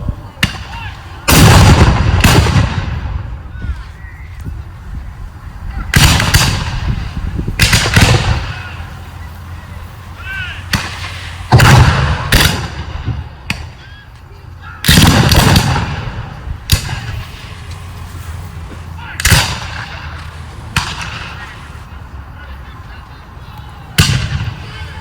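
Heavy booms of Civil War artillery canister fire crack out repeatedly, loud and echoing, in irregular bursts over a battlefield, with quieter gaps of rumble between the blasts.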